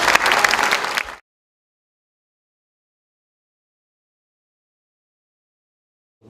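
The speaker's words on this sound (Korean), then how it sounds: "여러분의 힘찬 박수와 함성으로" Audience applause and cheering opening a public forum on the Jinju Medical Center, a loud burst of crowd noise lasting about a second before cutting abruptly to silence.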